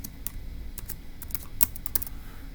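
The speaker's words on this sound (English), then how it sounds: "let me go ahead and type up no order" Typing on a computer keyboard, a quick irregular patter of close, light key clicks with a couple of sharper taps, no talk.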